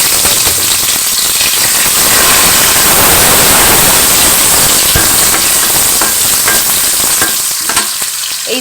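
Pressure-cooked dal hits hot oil in a pan with a loud, dense, continuous sizzle close by that stays intense before easing slightly at the end, with no voices.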